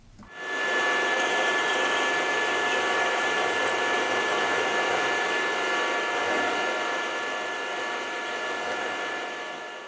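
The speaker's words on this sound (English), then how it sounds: "the last thing I want to do is to drill out the top half of the thread" A power drill boring out the upper thread of a metal vice stop, a steady loud whirring hum starting abruptly and holding for several seconds, tapering slightly toward the end.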